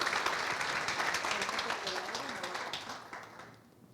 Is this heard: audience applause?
yes